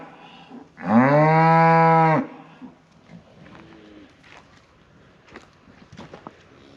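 A cow in a group of cattle in a pasture lets out one loud, close moo lasting about a second, followed by quiet field ambience with faint distant bird coos.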